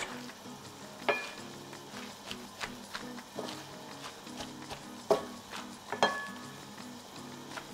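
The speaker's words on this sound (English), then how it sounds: "And now let's mix it." Caesar salad being tossed in a bowl, with irregular clattering knocks and scrapes of utensils against the dish over a soft rustle of leaves, close and quiet with no voices.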